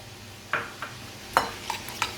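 Sauce of mayonnaise, vinegar, tomato ketchup and garlic stirred in a bowl, a few soft wet scrapes and clinks spaced irregularly, close and quiet with no voices.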